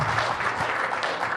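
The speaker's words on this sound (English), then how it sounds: "give these guys a round of applause, please" Audience applause at a tech conference presentation, a brief burst of steady clapping from a crowd, moderately loud and filling the whole moment.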